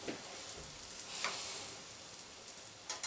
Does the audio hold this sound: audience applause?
no